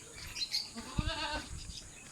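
Goats bleat on a Philippine goat farm, a few short, wavering calls rising over a steady outdoor background with faint bird chirps, no voices.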